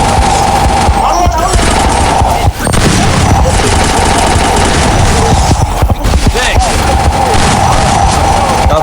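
Loud, nearly continuous gunfire and blasts from a Free Fire battle, with a grenade explosion among rapid shots, while excited voices shout over the din.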